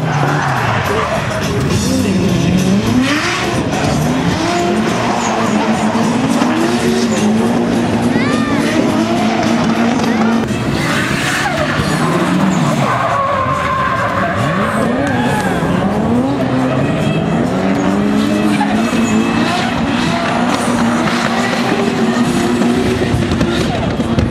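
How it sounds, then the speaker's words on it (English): Nissan S13 drift car at the Australian Drifting GP spinning out, engine revving and tires squealing and skidding on the track, loud and continuous, with a commentator talking over it and a crowd faintly present. "but he spins and he's going to hand an easy win through to Danny Vahumis"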